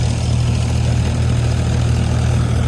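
A tractor engine runs at a steady idle, giving a loud, continuous low rumble with no voices over it.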